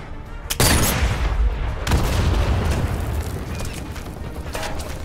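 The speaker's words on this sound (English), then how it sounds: "Let me shoot the barrel." A barrel blown up by gunfire in the VR shooter Sniper Elite VR: two sharp booming shots, the first after a brief pause and the second about a second later, each followed by a rumbling, crackling blast tail.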